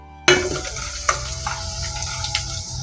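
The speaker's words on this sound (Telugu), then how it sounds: "ఆయిల్ అనేది వేడయ్యాక 1 స్పూన్ తాలింపు గింజలు," Tempering seeds and cumin dropped into hot oil in a kadai, a sudden sharp sizzle that settles into a steady crackling fry with a few pops, no talk.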